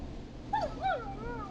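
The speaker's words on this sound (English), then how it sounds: "Is that a neighbor's dog?" A dog in the video game Killer Frequency gives two short, high whining yelps in quick succession, fairly faint over a low steady background hum with no talking.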